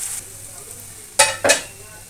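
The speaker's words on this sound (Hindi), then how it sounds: "अब इसको थोड़ा नमक के साथ पकने देते हैं, टमाटर थोड़ा नरम हो जाता है" Tomatoes and onion cook with salt in a pan, a faint sizzle broken by two sharp stirring scrapes near the end.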